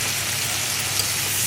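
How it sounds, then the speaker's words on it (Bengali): Hilsa fish head frying with onion in hot oil gives a steady, hissing sizzle, close and even throughout, with no voices. "ইলিশ মাছের মাথা পেঁয়াজ একটু ভেজে একটু আদা রসুন বাটা দিলাম"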